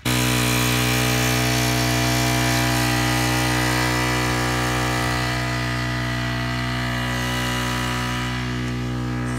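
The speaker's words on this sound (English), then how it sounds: "you can hear the pump going over there" A pump moving maple sap to a reverse osmosis unit in a house basement gives a loud, steady mechanical drone with a strong low hum and tonal whine, running unbroken throughout with no voices.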